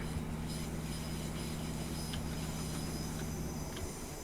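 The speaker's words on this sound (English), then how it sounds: "this is the Just Trains Midland Mainline with the 156, which is a brilliant train to drive" Simulated Class 156 diesel multiple unit running on the Midland Main Line in Train Simulator, a steady low engine drone with rail hum and faint wheel squeals, continuous and fairly quiet throughout, with no talking.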